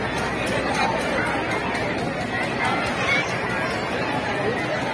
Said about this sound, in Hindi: काफ़ी भीड़ है, लोग काफ़ी उत्सुक भी हैं जैसा आप देख सकते हो